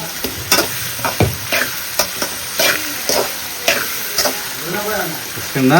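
Tomato and onion masala for a fish kulambu sautés in a pan, with a steady sizzle under repeated clanking stirs of a spoon against the metal and a brief hum of voice near the end.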